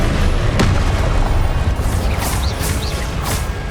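A Confringo fire spell explodes in Hogwarts Legacy gameplay, a loud heavy boom that keeps rumbling and crackling through a dense battle din, with a sharp burst early and further impacts and whooshes following.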